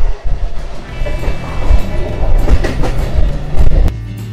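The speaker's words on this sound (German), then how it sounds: "steigen jetzt in diesen Zug ein und fahren bis Zarnesti" Passenger express train running from Brasov to Zarnesti in Romania with its door open, giving a loud, steady rumble of wheels and carriage noise with rhythmic clatter throughout.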